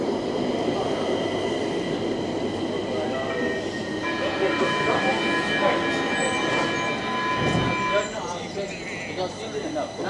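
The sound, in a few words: Stockholm subway train passing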